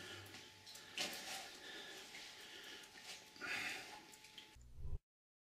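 Water drips and splashes inside a wet, muddy abandoned building, with steady trickling, scattered louder drip and splash bursts, and a brief rumble just before the sound cuts off.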